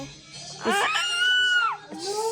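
A child lets out a loud, high-pitched scream that rises and holds for about a second, followed by a shorter squeal, with an adult's voice heard around it.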